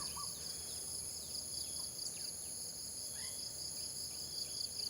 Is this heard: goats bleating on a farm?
no